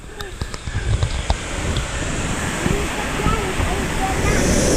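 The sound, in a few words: waterfall (shower falls)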